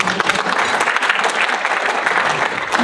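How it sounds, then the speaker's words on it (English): Audience at a Rotary club meeting gives a short burst of applause, a lively, close crackle of many hands clapping steadily throughout. "So a round of applause for us."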